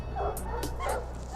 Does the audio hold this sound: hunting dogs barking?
yes